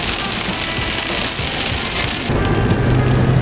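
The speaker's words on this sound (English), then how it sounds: "Big rain starting already." Heavy rain pours down hard during a storm chase in hilly country, a dense, loud, steady roar of drops drumming on a surface, with a low rumble growing underneath near the end.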